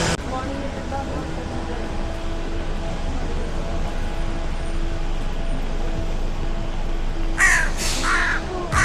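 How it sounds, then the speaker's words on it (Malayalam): Hooded crows cawing in Budapest, harsh calls breaking out near the end over a steady urban hum with distant traffic. "ഇവിടുത്തെ കാക്കയൊക്കെ വെറും ബ്ലാക്ക് അല്ല രണ്ട് കളറാണ് കാക്കയ്ക്ക് വെള്ളയും ബ്ലാക്കും കൂടി കൂടിയിട്ടാണ് ശബ്ദമൊക്കെ സെയിം തന്നെ"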